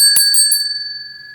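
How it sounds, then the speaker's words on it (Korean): A bright metal wind chime gives a single clear ring, close and loud, its pure tone lingering and fading slowly with no talk. "맑고 청한 이 풍경 소리가"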